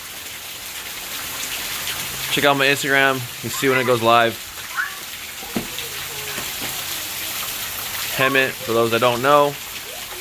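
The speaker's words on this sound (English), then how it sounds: "Pretty big downpour." Heavy rain pours down steadily outdoors in Hemet, Southern California, a constant hiss of drops beneath recurring nearby talk from a man and others.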